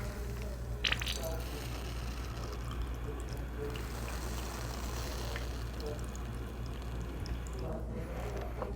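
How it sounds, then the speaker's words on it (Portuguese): Tap water pours steadily over laboratory glassware to cool it, a continuous splashing stream with a low hum underneath for the whole stretch. "eu só vou molhar um pouco o vidro com água de torneira para esfriar um pouquinho ele"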